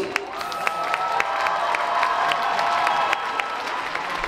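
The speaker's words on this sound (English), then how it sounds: "So can we have a full, like, big round of applause for all the ladies?" Audience applauding and cheering for a group of women dancers at a dance performance event, a steady dense wash of clapping with scattered whoops and shouts throughout.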